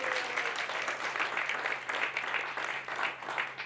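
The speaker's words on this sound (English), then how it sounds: "Let's give Ben a round of applause." An audience at a StorySLAM storytelling event applauds, with steady dense clapping that runs throughout at moderate volume and carries a faint murmur underneath.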